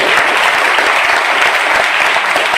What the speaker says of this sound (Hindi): तो इतने वंडरफुल बिजनेस के लिए एक बार जोरदार तालियां हो।